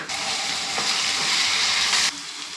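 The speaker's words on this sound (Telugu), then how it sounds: "ఆనియన్ ఫ్రై అయిపోయిందని అల్లం వెల్లుల్లి పేస్ట్ వేసుకుంటాం." Onions frying with ginger garlic paste for bagara rice, a loud continuous close sizzle with a stir midway, cutting off abruptly near the end.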